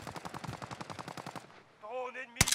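Rapid automatic gunfire in the video game Call of Duty Warzone on the Caldera map, a fast steady burst of shots for about a second and a half, then a tonal game sound and a sharp final crack.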